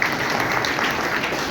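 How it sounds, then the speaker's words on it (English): A short burst of audience clapping at a property presentation for DLF One Midtown in Delhi, a brisk, even patter of many hands at moderate volume. "We can all clap for this."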